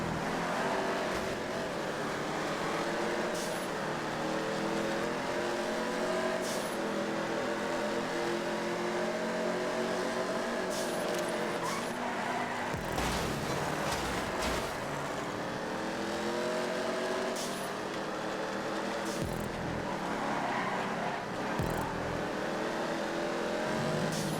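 A car drifts around a race track in GTA 5, its engine droning and revving continuously with tyre noise and a few brief thuds, loud and close throughout.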